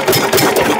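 A Field Marshal Lister-type diesel engine runs close by, a loud, fast, rhythmic chugging with even mechanical knocks and no voices over it.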